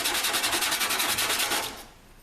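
Dirt bike brake pad rubbed back and forth on sandpaper over a flat surface, a fast rhythmic scraping of about a dozen close strokes that stops abruptly near the end.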